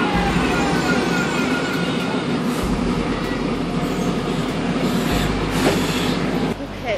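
Steady low rumble and rattle of a train carriage in motion, continuous and fairly loud throughout, with shifting low engine or wheel drone and faint background voices.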